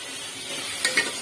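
Salted mutton browns in a pan with a steady close sizzle, broken by two quick scrapes and clinks of a spoon stirring the meat.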